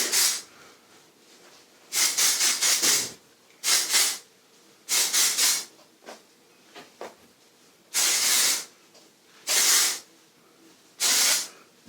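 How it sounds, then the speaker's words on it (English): Several short hissing bursts of texture spray sprayed into curly hair, close by, in an irregular rhythm with brief pauses between sprays. "lift my hair up and spray into it"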